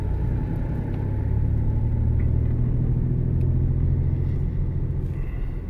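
Inside a 2000 Nissan Pathfinder with a V6 cruising through town, a steady low engine and road rumble drones continuously with no break, loud and close from within the cabin.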